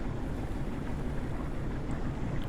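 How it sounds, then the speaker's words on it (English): A new passenger ferry maneuvering with its port engine ahead and starboard engine reverse, a steady low faint rumble with wind and water wash and no voices. "we'll go ahead on the port engine and reverse on the starboard engine"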